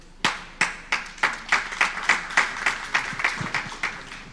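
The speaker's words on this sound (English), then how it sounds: "Another round of applause for Maria." A short round of clapping: a dozen or so crisp handclaps in a steady rhythm from a few people nearby, with no talking.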